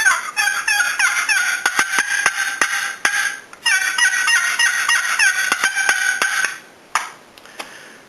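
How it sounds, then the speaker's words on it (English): Excited cutting notes played on a custom longbox turkey call, rapid sharp clucks and yelps in quick irregular bursts, loud and close, with a brief pause before a final few cuts. "Cutting is done similar to clucks, except that it's, of course, more excited and usually associated with yelps."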